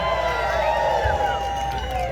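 A large rally crowd at a Trump event roars and cheers in a steady, dense wash of noise, with overlapping voices and shouts that hold loud and close throughout.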